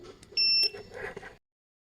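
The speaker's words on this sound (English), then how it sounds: "When we hear a beep, it means the check-in is successful." A single short, high electronic beep from an RFID card reader confirming a driver check-in, clear and close, amid faint handling noise.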